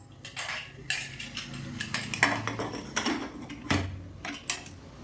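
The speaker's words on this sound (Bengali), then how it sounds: "প্রেসার মুখটা চাপা দিয়ে দিলাম।" A pressure cooker lid pressed shut over banana flower boiling with salt and turmeric, giving scattered metallic clanks, scrapes and ratcheting clicks close up, with several sharper knocks spread over a few seconds.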